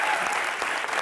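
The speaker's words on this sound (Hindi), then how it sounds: "जोरदार तालियां बनती हैं सर।" A studio audience at a comedy show applauds in a dense, continuous burst of clapping, with a voice faintly audible underneath.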